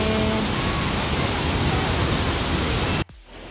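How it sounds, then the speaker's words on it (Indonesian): Waterfall at Situ Gunung, Indonesia: a loud, dense rush of falling water fills the clip without a break before it cuts off abruptly near the end. "Air terjun yang ada di Situ Gunung."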